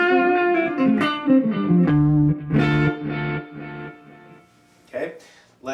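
An electric guitar plays through a Boss RE-202 Space Echo delay pedal with the saturation turned up for a crunchy, slightly distorted tone, sounding sustained notes and chords that ring and decay with echo tails.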